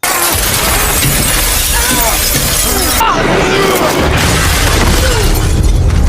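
In an action scene from the film Extraction, a gunshot shatters glass that someone is standing on, giving a loud, dense crash of breaking glass inside a heavy, continuous wash of noise.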